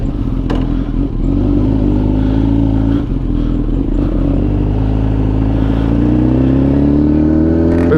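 A Kawasaki ZX-10R motorcycle engine drones loudly and close while riding, its tone rising steadily as the revs build toward the end, with no talk.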